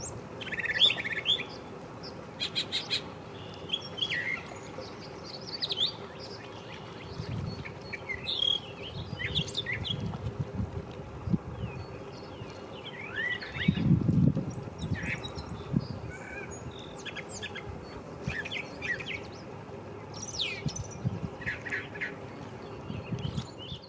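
Varied mimic bird calls and chirps come in scattered bursts throughout, some harsh and quacking, others high and tweeting, over a low steady background hum, at Eagle Creek Park.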